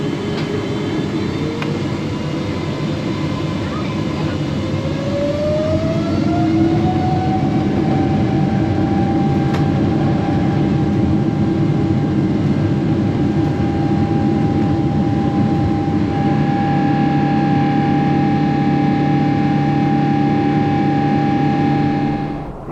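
Inside the cabin of an Ethiopian Airlines Boeing 777-260(LR) on takeoff roll, a steady loud jet engine roar with a rising whine that climbs and levels off, dense cabin rumble throughout, no talking.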